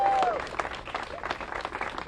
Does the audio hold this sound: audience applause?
yes